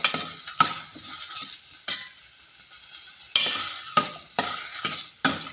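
Salted tomatoes in a pan are stirred with a utensil in repeated scraping strokes that come in irregular bursts, each backed by a soft sizzle, with quiet pauses between.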